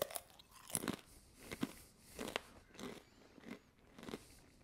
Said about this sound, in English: They are nice and thick, quite crunchy too.